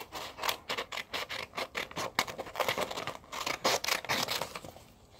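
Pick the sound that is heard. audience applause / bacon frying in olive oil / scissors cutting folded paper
scissors cutting folded paper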